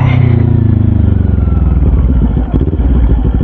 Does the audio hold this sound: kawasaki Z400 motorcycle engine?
yes